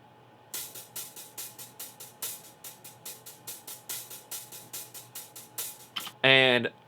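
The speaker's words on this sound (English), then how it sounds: "There is a live main hi-hat that sounds like this." A live main hi-hat in a song plays a steady run of crisp, evenly spaced ticks over a low hum, then a brief louder burst of tonal sound near the end.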